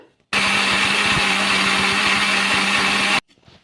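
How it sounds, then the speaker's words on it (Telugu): A mixer grinder whirs loudly at a steady high pitch for about three seconds while grinding idli batter, starting and stopping abruptly, with quiet moments before and after. "ఇప్పుడు మెత్తగా మిక్సీ అయితే పట్టేసుకుందాం"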